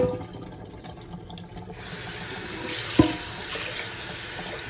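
Tap water runs steadily into a sink while rice is rinsed, a continuous hiss with a brief clunk partway through, close by and with no talking.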